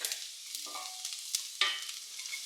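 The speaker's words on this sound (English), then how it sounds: "I'm going to fry this garlic maybe like 1 or 2 minutes" Garlic frying in a pan with already cooked onion for Texas chili, a soft close sizzle with a few scraping stirs, quiet and without talk.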